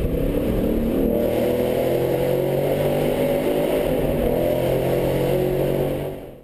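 A 1967 Ford Mustang GT convertible accelerating, the engine note climbing in a continuous loud roar that stays close and steady before fading at the very end.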